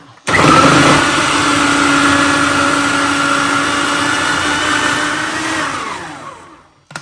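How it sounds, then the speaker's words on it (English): A food processor purees onions, bell pepper and celery with a loud, steady motor whir that starts abruptly, holds for several seconds and then winds down toward the end. "you're going to need a processor because we don't want chopped vegetables. We want them to be pureed."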